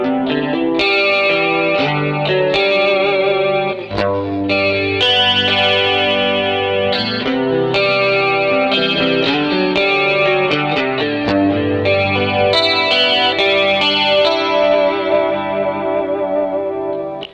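Rockman X100 headphone amp on electric guitar, clean tone number 2 with a nasal character plus echo and chorus, strummed chords and picked notes ringing loud and continuous throughout.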